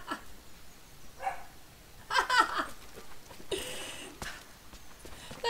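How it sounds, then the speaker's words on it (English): Dog barking indoors in a home during a Rise of the Tomb Raider gaming session, a few separate barks and yelps spread across several seconds, fairly faint and somewhat distant over quiet background noise. "You just made Loki start barking"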